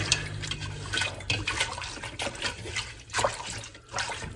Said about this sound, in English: So give that a good whisk.